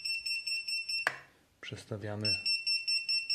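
An FPV drone X210V+ locator buzzer sounds in steady, high, evenly spaced beeps, briefly cut off while someone speaks, then resuming.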